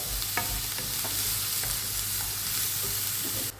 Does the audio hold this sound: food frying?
yes